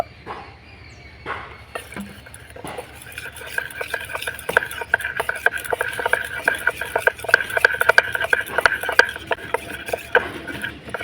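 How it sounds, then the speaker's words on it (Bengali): A spoon scrapes and clinks against a small bowl while flour is mixed with a little water into a thick batter for hand-made fulpitha, steady rapid stirring taps up close with no talking. "বাটির মধ্যে ময়দা অল্প জল দিয়ে গুলে নেব"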